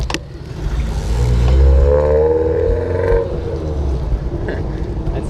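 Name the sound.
old car with a loud muscle-car engine passing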